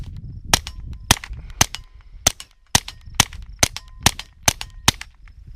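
An FN 502 pistol fires at targets in a steady series of about eleven sharp, loud reports spaced roughly half a second apart, each a crisp crack with a short tail.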